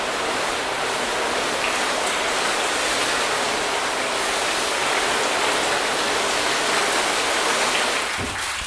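A garden hose sprays water across a car body during a wash with Gyeon, Meguiar's and CarPro coatings, giving a steady, loud, broadband hiss that runs unbroken for the whole stretch with no voices.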